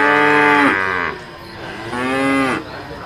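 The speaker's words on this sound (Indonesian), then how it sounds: "Ini kerbau teman-teman." A fat water buffalo lets out two long, loud moos nearby outdoors, each a drawn-out harmonic bellow falling in pitch at the end, separated by a short pause.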